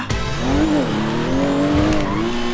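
GTA video game car engine roaring with rising and falling revs, a blow-off valve and a tire squeal, a racing-car sound, loud and continuous with no speech.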